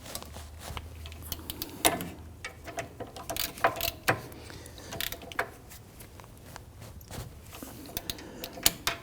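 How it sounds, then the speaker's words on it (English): Ratchet wrench clicking in quick bursts while snugging down bolts on the rear brakes of a 2013-2019 Ford Police Interceptor Utility, close and crisp with brief pauses between strokes. "grab that ratchet, flip it to tighten, and let's snug these down"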